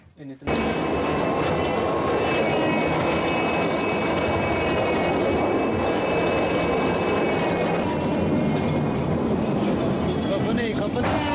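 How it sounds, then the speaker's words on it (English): A ventilation fan runs in a coal mine with a loud, constant roaring drone and steady tonal hum that holds unchanged from start to finish, with no voices. "comes right back to this fan that we've got running and exhausts it out through the coal mine"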